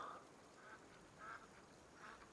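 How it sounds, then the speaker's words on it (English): Ducks quack faintly in the video game Farming Simulator 25, a few short calls spaced evenly over a low ambient hum. "Yeah, these are ducks."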